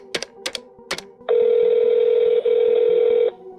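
A telephone handset is dialed with a few quick, sharp key beeps, followed by a loud, steady tone lasting about two seconds with a tiny break in the middle, then another short beep.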